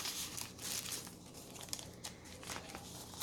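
Close, continuous crinkling and rustling of paper being handled, with soft crackles and scrunches throughout.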